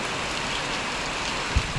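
Steady rain falls at a farm in an even, broadband hiss, with a couple of heavier drops or thumps near the end and no voices.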